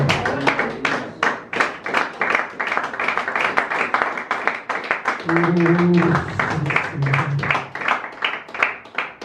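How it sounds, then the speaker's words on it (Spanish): A church congregation claps in a fast, regular rhythm, loud and close, while voices shout and sing briefly over the beat partway through. "Den un aplauso al Creador."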